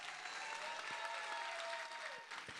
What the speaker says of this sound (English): let's give them a one round of applause